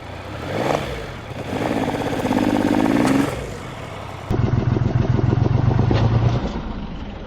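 A vehicle engine is tried after a makeshift roadside repair. It cranks and churns roughly, fades briefly, then returns in a louder, steadier grinding rumble, close by with no voices over it.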